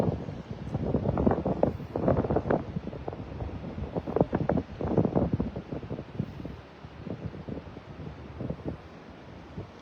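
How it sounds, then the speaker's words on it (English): Breezy wind gusting over a Gulf beach at Delnor-Wiggins in North Naples, Florida, buffeting the microphone in loud, uneven rumbling bursts with no talk. "It's breezy."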